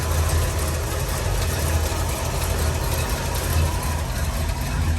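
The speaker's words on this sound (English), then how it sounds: "You can hear this engine run. That Windsor just runs super nice and smooth and quiet." A cold 1960 Ford F-100 pickup's 351 Windsor V8 idles smoothly and steadily, heard up close as a continuous low rumble with broad hiss over it.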